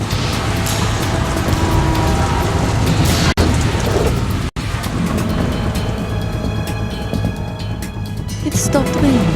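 Heavy rain pours steadily in Metal Gear Solid 2 over a New York setting, a loud, continuous hiss with deep rumbling underneath, briefly cut by two abrupt dropouts, while voices talk over it.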